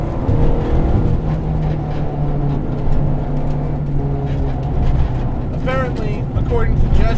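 Engine note of a Honda Civic EG hatchback with a K24 swap, a steady low drone throughout as the car drives, with a speaking voice over it.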